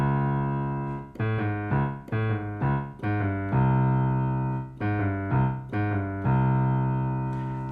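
Piano plays a jazz introduction, repeated rhythmic chord figures moving down through chords, full and close, with sustained chords between the bursts and no talking.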